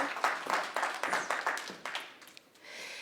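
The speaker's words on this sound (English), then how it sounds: "Let's give her a round of applause and welcome her." An audience at a social housing information session applauds to welcome a speaker, a burst of crowd clapping with rhythmic surges that fades out after a few seconds.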